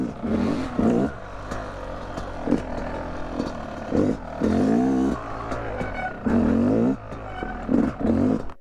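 A KTM or Yamaha YZ250X two-stroke trail dirt bike kickstarted and revved, with sharp repeated throttle blips rising and falling between brief idle gaps, loud and close.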